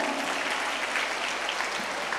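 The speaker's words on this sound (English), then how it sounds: "Parents, please give them a big round of applause." Parents and audience at a school children's coloring competition during an Independence Day celebration clap steadily, a dense even applause throughout.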